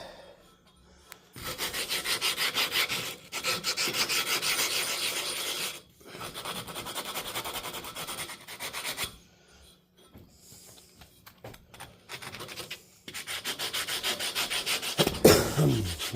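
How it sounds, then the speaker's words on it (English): Coarse 80 grit sandpaper rubs over wood in long, steady, close-up strokes. The rasping bursts are separated by brief pauses, with no talking. "Just going to use some 80 grit sandpaper to finish her off."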